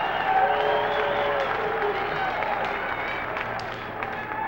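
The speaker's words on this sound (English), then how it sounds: "I want you clapping for me." Audience applause at a 1989 Pro Football Hall of Fame induction ceremony: a large crowd claps in a dense, sustained wash that slowly fades slightly over a few seconds, with no talking on top.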